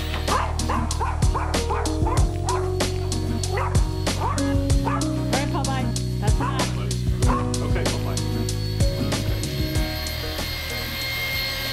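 A dog barks repeatedly in sharp, close yips and whimpers indoors, over the steady whine of a small brushed-motor Blade 70 S RC helicopter, with someone talking at times.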